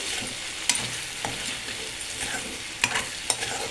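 A pan of tomato and gongura leafy greens curry being stirred, a gentle sizzle with a few sharp spoon clicks and scrapes against the pan, close up and without speech.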